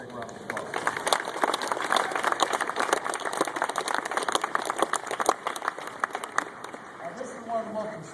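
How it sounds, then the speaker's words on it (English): Sustained applause from a large crowd at a White House event honoring wounded warriors from every military service, dense clapping throughout with a few cheers near the end. "Please give him a big round of applause."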